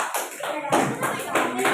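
Classroom of students clapping for a group after its presentation, a short burst of scattered hand claps mixed with voices and room noise.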